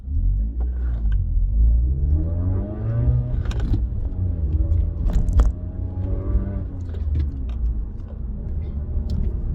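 A 2014 Suzuki Swift Sport fitted with a Remus exhaust drives through a roundabout, its engine giving a deep steady rumble with rising and falling revs and faint interior clunks.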